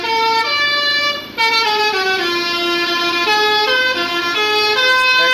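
A loud horn blares a sustained multi-tone melody as a bus passes on a mountain road during post-holiday return traffic at Sitinjau, the musical honk shifting pitch in steps with a brief break.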